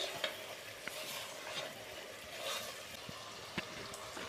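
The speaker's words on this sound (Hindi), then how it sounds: "साथ साथ भुनाई करते जाएंगे और साथ साथ मिक्स करते जाएंगे" Mutton white karahi frying in a pan while being stirred, a steady close sizzle with scraping stir strokes, no talking.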